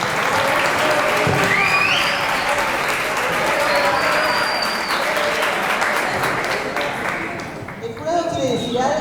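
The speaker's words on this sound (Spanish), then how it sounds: "un aplauso para todos" Sustained applause from a group at a school mock jury trial fills the clip, dense steady clapping that thins out toward the end as voices begin to emerge.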